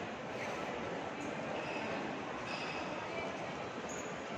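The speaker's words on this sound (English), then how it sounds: "So this is the Malaga Central Train Station." Indoor ambience on the second floor of Malaga Central Train Station, Spain: a steady, faint wash of hall noise and rail hum with distant crowd murmur throughout.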